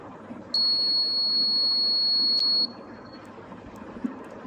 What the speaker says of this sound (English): If it temperature exceeds the predefined temperature, it will show the temperature in the LCD display and it activates the buzzer.